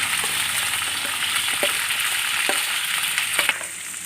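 Finely chopped shallots fry in hot oil with a dense, steady, loud sizzle and a few faint stirring knocks, close up and uninterrupted.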